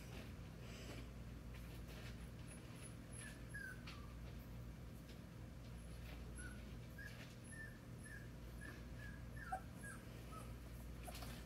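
A puppy whimpers softly with thin, high repeated whines and yips over quiet background hum, fairly faint and close, with no talking.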